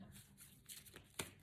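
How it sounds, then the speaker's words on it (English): A quick shuffle of an oracle card deck gives soft riffling and sliding card sounds in short bursts ending in a sharper snap, quiet and close. "I'm just going to do a quick shuffle."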